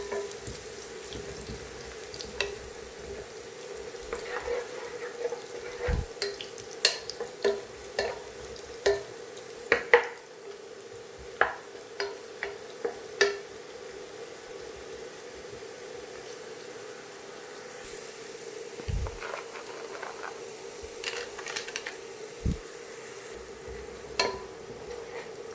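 Cashews and raisins frying in oil in a pan for Bukhari rice, a steady close sizzle with repeated scraping stirs and small clinks of a spoon against the pan.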